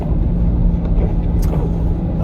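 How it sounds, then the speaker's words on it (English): A new Land Rover Defender engine-brakes downhill, giving off a steady, loud, low rumbling drone that holds an even level throughout the short stretch. "you can probably hear the engine's making a lot of noise"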